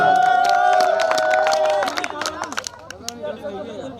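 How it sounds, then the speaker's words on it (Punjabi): A crowd at a live Punjabi singing duo's performance cheers and claps in scattered sharp bursts after a sustained voice, the noise thinning out toward the end. "ਫਿਰ ਪਾ ਦਿਓ ਤਾੜੀ ਜ਼ੋਰਦਾਰ"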